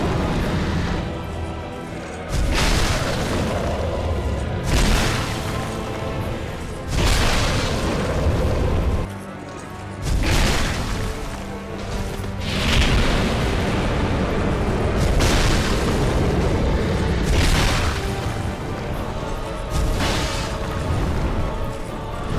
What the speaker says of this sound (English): His fire breath is easier to dodge if you focus on his head.